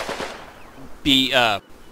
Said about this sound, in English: this tank hunter team decides to shoot the absolute shit out of some poor fuckhead